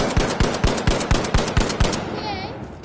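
Single shots from the LH1 rifle in The Finals crack out in a steady rhythm, about eight loud, evenly spaced reports over two seconds, followed by a quieter electronic whir and fading tail.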